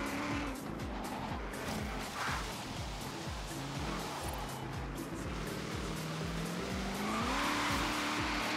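A car spinning its wheels in the racing game Forza Horizon 3, a continuous engine drone with rising pitch and tire squeal, loud and steady throughout.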